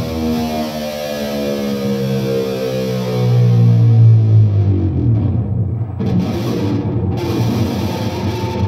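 Heavily distorted electric guitar chord ringing as its pitch slides steadily downward, growling and buzzy, then settling into a low rumbling drone.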